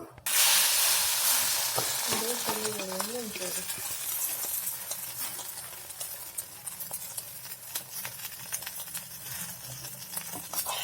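Bread omelette sizzling and frying steadily in a hot pan, a continuous close hiss with light spatter, while a person speaks briefly over it.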